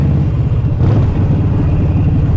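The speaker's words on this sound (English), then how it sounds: "you drive 40 kilometers an hour and just rev the shit out of it" Steady, loud low rumble of a 2013 Harley-Davidson 1200 Sportster motorcycle engine revving up close, a continuous throaty drone with slight surges and no talking.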